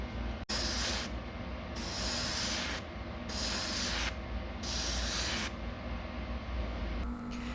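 Airbrush spray gun at 15 psi with a 0.3 mm needle hisses out chrome paint in four long steady bursts with short gaps, close and continuous, alone without talk.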